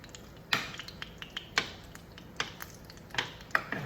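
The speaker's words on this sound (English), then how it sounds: "I'm just gonna mix these beans around in this delicious" Franks and beans with sausages being stirred in a pot, a spoon making scattered soft clinks and scrapes against the pot every second or so, fairly faint and close with no talking.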